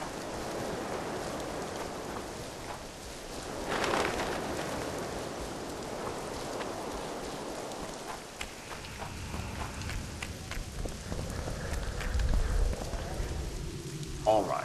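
Steady rain patters heavily on surfaces throughout in the video game The Witcher 2, a dense continuous hiss with a few louder bursts, close and enveloping.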